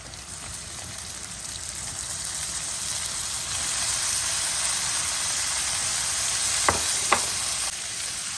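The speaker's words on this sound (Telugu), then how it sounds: "ఇప్పుడు నేను టమాటో వేస్తున్నాను." Tomato pieces dropped into a pan of frying onions with green chillies for a tomato curry, giving a steady close sizzle with a couple of brief sharp crackles near the end.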